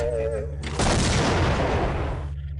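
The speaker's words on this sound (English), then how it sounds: "Wait for the second explosion." An explosion in the video game System Shock 2 bursts in as a sudden loud, broad blast that rumbles for about a second and a half before cutting off, over a low steady game hum.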